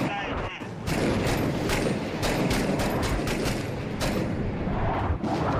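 Bursts of gunfire crackle through a Six Days in Fallujah firefight, with sharp shots and rapid volleys going off all around, while players' voices talk underneath.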